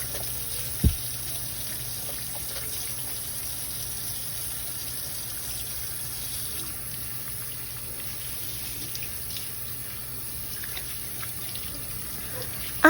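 Tap water runs steadily from a faucet into a sink while hands and seafood are washed during home cooking, a continuous moderate splash with a brief knock near the start and no talking.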